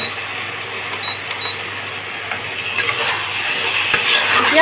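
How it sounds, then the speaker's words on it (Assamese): Taro leaves and a fish head fry in a pan for an Assamese dish, giving a steady close sizzle and hiss that grows slightly louder toward the end, with a few faint clinks. "এতিয়া অলপ ভাজি ল'লে হৈয়ে যাব অকণমান ভাজিব দিছোঁ"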